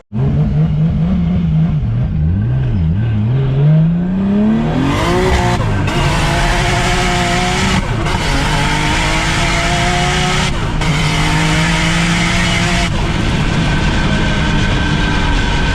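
A Nissan S13 fitted with a 2JZ engine accelerates hard, its loud engine note climbing steadily and dropping sharply at several gear changes as it drives on.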